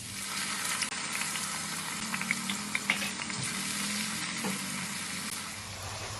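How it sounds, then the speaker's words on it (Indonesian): Shallots frying in very hot oil, with a steady close sizzle and crackle and occasional stirring scrapes running throughout. "ini kalau minyaknya udah panas banget bisa kita masukin bawang merahnya"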